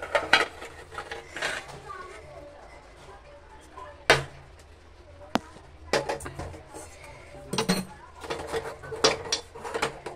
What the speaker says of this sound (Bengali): চলো বাটিটা একটা ঢেলে নিই।